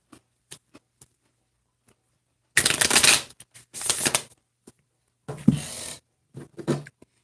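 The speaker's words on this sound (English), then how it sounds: "I'll pull from my new Oracle decks." Oracle cards are shuffled by hand in three close, crisp bursts of riffling and flicking, separated by silence and a few scattered light taps.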